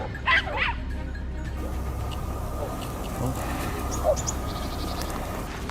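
Hunting dogs on the chase after a wild boar give a couple of sharp yips early on, then one more faint yelp later, all set against a steady outdoor hiss and movement noise with no clear talk.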